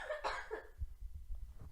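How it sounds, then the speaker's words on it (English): A single cough with a throat-clearing rasp sounds close to the microphone in a podcast recording room, followed by low rustling and breathing. "Can you not cough, please?"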